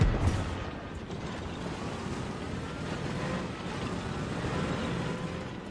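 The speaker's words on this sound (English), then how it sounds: "I can't see anything, but I hear engines all around me." Tank engines in War Thunder rumble continuously in a dense, noisy low drone with no clear individual vehicle standing out.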